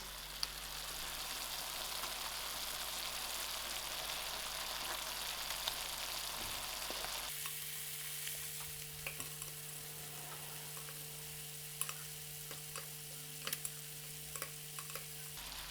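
Lamb chops and potatoes sizzle steadily in a frying pan, a continuous crackling hiss that stays fairly quiet and even, with occasional small pops and stirring sounds; no one speaks.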